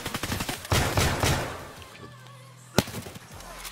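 Escape from Tarkov gunfire, a rapid volley of close shots at the start followed by a single sharp shot a moment later, with voices talking over the game audio.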